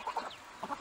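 Wyandotte hen clucking in a few short, close bursts, two quick clucks at the start and another pair near the end with a quiet gap between.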